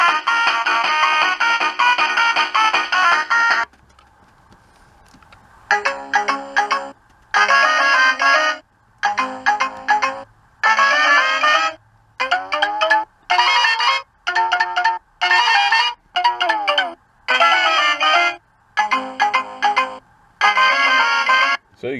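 A Toy Island Wacky Sax toy saxophone plays an electronic tune in bright, buzzy, horn-like notes, loud and close. A brief quiet gap is followed by a string of choppy, evenly spaced notes.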